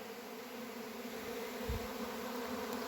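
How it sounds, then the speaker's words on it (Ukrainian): A honeybee swarm pouring out of a hive makes a dense, continuous hum that stays steady and close throughout. "От, виходить, з цього вулика рій вийшов."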